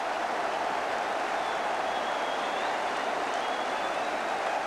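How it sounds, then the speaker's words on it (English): A football crowd applauding Tony Currie in a 1970s stadium match, a broad, even roar of clapping and crowd noise that holds steady and sounds somewhat distant throughout. "Tony Curry milks the applause that is so deserved"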